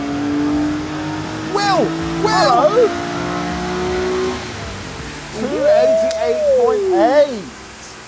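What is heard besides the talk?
sports car engine revving during a dyno run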